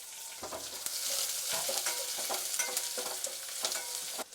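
Onion fries with curry leaves in a pan, a close sizzling hiss broken by repeated scraping strokes of a stirring spoon at an irregular pace, with no one speaking.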